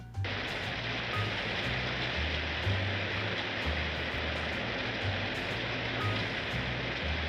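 Steady, dense rain falls and spatters without a break through a rainy sequence in a Michelangelo Antonioni film, a constant wash of sound with no voices.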